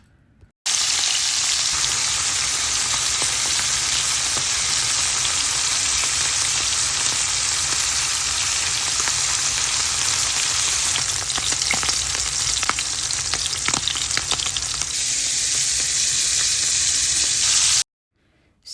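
Pieces of fish fry in hot mustard oil in a pan, an even, loud, continuous sizzle with scattered crackles and pops.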